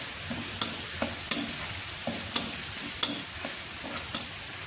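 Garlic sizzles in a pan while a utensil stirs it, a steady frying hiss broken by sharp, regularly spaced scraping clicks at close range, with no voices.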